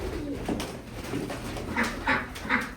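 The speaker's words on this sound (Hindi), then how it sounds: "ये कबूतर है।" Soft pigeon cooing, a few low throaty calls repeating over a busy background hum, fairly close.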